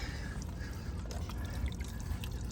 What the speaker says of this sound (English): That is performing an aquafication process, which you put in bubbles in the water.